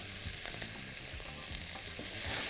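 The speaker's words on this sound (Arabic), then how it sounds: "واقلب دوت مع بعضه كده" Chicken sizzles in a hot pan with salt while it is stirred, a close, crackling fry with scraping and clattering as it is turned, continuing the whole time with no voices.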